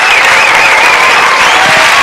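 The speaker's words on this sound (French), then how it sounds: "est-ce qu'on peut applaudir pour ces paroles?" Dense, loud audience applause at a church celebration of a couple's 25th wedding anniversary, a steady wash of clapping filling the whole stretch.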